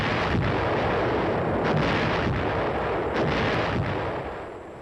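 Heavy artillery firing in a sustained forward push, heard as a continuous loud, rumbling barrage with a few sharper thuds breaking through, no voices present.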